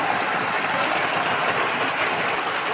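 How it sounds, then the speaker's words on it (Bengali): Heavy rain pours down in a steady, dense hiss that fills the whole scene, loud and unbroken, with no voices. "আরে প্রচুর বৃষ্টি।"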